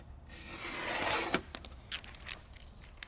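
A blade slices window tint film along the top edge of a frameless rear door window on a BMW Gran Coupe, giving a steady close-up rasping rub for about a second, then a few light clicks and taps.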